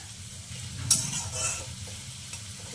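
Onion is stirred in a pan as it fries until reddish, giving a soft, low sizzle with a few scraping clinks of a spatula. The sound is close and fairly quiet, with no voices.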